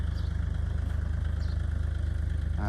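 A used Kubota tractor's four-cylinder diesel engine idles with a steady, even rhythmic clatter, close and continuous throughout.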